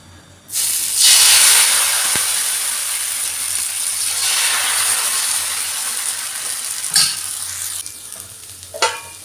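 Dosa batter hits a hot, oiled pan and bursts into a loud, steady sizzle that holds for several seconds before easing slightly, with a few faint clinks near the end.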